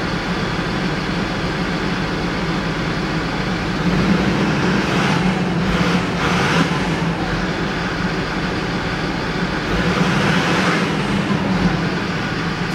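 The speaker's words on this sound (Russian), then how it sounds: "Я слышу, турбина сопит нормально." A Land Rover Discovery 3 engine with a newly replaced turbo runs at a steady idle close by, with a constant broadband rumble and airy turbo whoosh, swelling slightly in a couple of spots.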